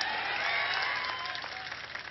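A large crowd at a political rally in Bhavnagar, Gujarat claps and cheers in a dense, steady wash of applause that slowly thins toward the end.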